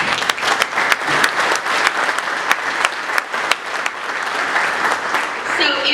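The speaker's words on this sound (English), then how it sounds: "So please give them a round of applause." Steady applause from a crowd at a supply chain and logistics conference keynote, sustained clapping filling the room throughout at even strength with occasional louder claps, no talking over it.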